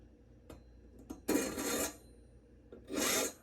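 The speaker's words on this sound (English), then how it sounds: "I'm sharpening up some of the teeth here that are kind of dull. I'm just using a file." A hand file rasps across the dull teeth of a vintage Black & Decker hedge trimmer blade in two short, gritty strokes, with a few faint metallic ticks between them in a quiet room.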